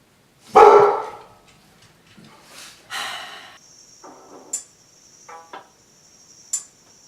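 A dog gives one loud, close bark, followed by quieter snorting and a few sharp ticking sounds in an indoor room.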